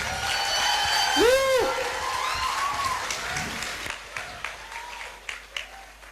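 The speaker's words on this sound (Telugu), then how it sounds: "give a big clap" Audience applause swells early and then thins out, ending in scattered individual claps, with a brief rising-and-falling tonal squeal near the start.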